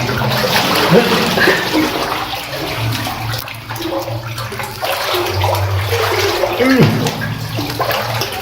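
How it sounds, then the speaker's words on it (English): Someone wading through thigh-deep water in an abandoned silver mine tunnel, continuous sloshing and splashing from each stride, close and echoing, with occasional breathing or voice underneath. "And now the water is up to my thigh."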